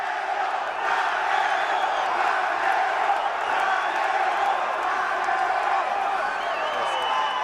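A big Las Vegas boxing crowd roars and cheers for Canelo, a dense continuous wall of shouting and whooping from a packed arena, with faint speech mixed into the din.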